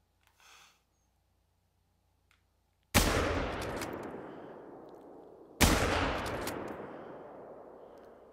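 Two loud rifle shots ring out in The Hunter: Call of the Wild's Yukon Valley, a few seconds apart, each with a sharp crack and a long echoing decay after near silence and faint rustling.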